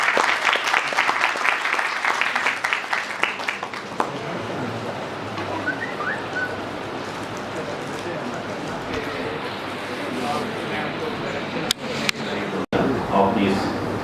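A university workshop audience on nanoscience breaks into a big round of applause for a guest speaker, starting strongly and then settling into a steady, dense clapping wash that fills the hall, with some talking over it.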